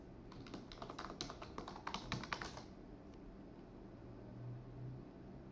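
Quick, quiet clicking of keys on a computer keyboard as a password is typed, a brief run of taps lasting about two seconds before falling silent, with a faint steady hum of room noise.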